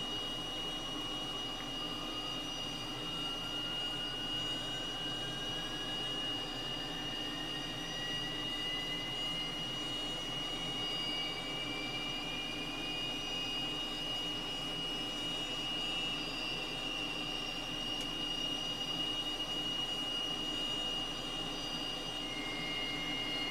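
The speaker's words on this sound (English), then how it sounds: "Switch on the ignition switch for the right hand engine, grab the starter switch, drag up." A simulated Cessna T-37B Tweet twin-jet trainer makes a cold start of its right engine in Microsoft Flight Simulator: a steady turbine hum and whine, with one tone climbing gradually in pitch as the engine spools up, continuous and even.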